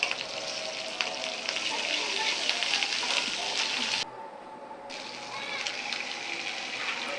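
Whole spices, ginger and garlic paste sizzle steadily in a hot pan, a dense continuous frying hiss with faint stirring clicks, briefly dipping quieter partway through before resuming.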